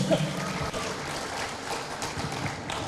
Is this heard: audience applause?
yes